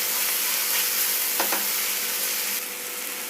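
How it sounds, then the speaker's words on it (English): Diced tomatoes and onions sizzle in a hot pan for a fish curry, a steady, loud frying hiss with a brief scrape of stirring midway before the sizzle eases slightly. "The tomatoes are cooking with the onions"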